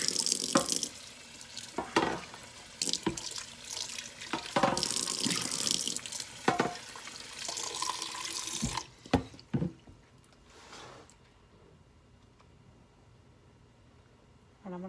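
A tap runs into a sink while a container used for making goat milk and honey shampoo bars is rinsed out, splashing and sloshing in uneven bursts before the water shuts off, leaving faint drips.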